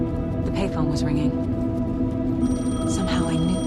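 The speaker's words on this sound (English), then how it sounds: "The payphone was ringing." A payphone rings in the video game Alan Wake 2, a steady electronic ringing tone that repeats in bursts over a dense, droning game soundscape.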